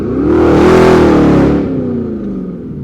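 Straight-piped Audi S7 revs hard with traction control off and sport mode on, a loud, close engine roar that climbs, holds for about a second and a half, then drops back to a rumbling idle.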